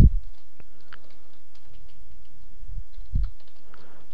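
Sparse computer keyboard taps and clicks, a few isolated strikes spread across a quiet background, close and fairly soft.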